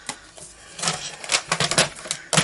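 A paper trimmer slices a card scrap in a crafting setup, giving a short series of quiet, crisp scraping and clicking strokes close by, ending in a sharper snap.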